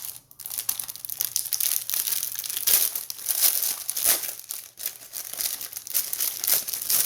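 Plastic packaging from a Nintendo 2DS XL case and screen protector bundle crinkles and crackles continuously up close, with sharp rustling bursts as it is handled and opened.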